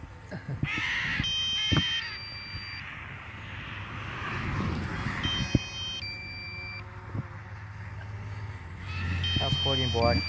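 Harsh, raucous macaw calls ring out over a drone's steady mechanical hum in Bonito, Brazil, with repeated electronic low-battery beeps in between and a person speaking briefly.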